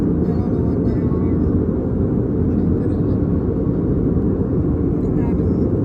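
Steady, loud engine drone fills an airplane cabin in flight to Las Vegas, a dense unchanging roar with no break across the whole stretch.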